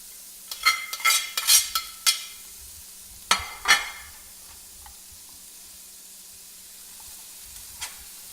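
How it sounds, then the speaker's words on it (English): Zucchini noodles tossed into a sauté pan with a little olive oil, giving a few close stirring scrapes and brief sizzling bursts that settle into a quiet, steady hiss. "We have our saute pan with a little bit of olive oil in it, and all you're gonna do is put them in, dump them in."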